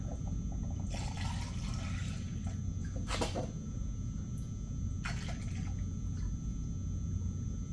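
Coolant glugs from a jug into the radiator of a Chevy van in a few short splashing bursts over a quiet background.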